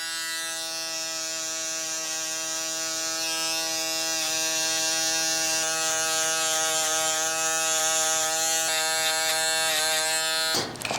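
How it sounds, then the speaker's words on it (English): A double foil electric shaver runs on hair during a low fade haircut, a loud, steady close buzz lasting several seconds before cutting off abruptly. "now we're gonna go ahead and drop your double foil shaver and then just basically just grate it at the bottom"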